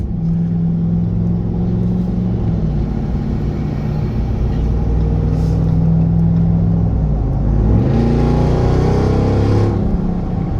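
A 2023 Ram TRX fitted with an AWE exhaust rumbles loudly and steadily, building into a rising rev near the end with a deep, heavy tone throughout.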